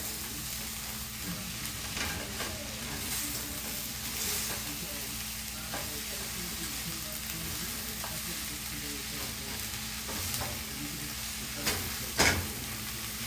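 Ground beef sizzles and fries steadily in a pan as a utensil stirs and scrapes through it, with a few sharper clacks near the end; close and continuous, no talking.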